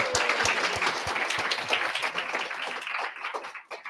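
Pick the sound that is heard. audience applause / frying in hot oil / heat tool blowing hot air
audience applause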